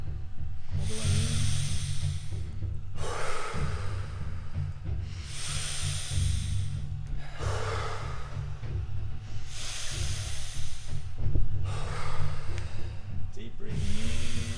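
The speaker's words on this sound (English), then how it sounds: "Deep breathing" Deep, forceful breaths during a cold-exposure workshop come in a steady rhythm, each rushing inhale or exhale arriving every couple of seconds, close and loud, over a low background rumble.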